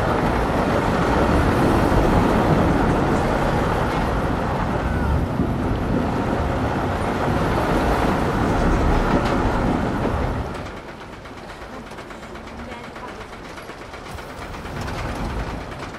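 Roller coaster cars rumble and clatter along the track in Planet Coaster's night-time park, passing through a cave. The sound is loud and rushing for ten seconds, then drops to a softer rolling rumble, with no talk.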